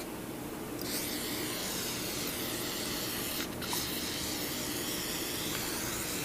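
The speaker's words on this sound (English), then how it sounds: "I'm going to spray it inside and out." A long, continuous hiss of G96 aerosol gun cleaner sprayed on a Browning Maxus 2 shotgun, close and steady, with a brief louder burst partway through.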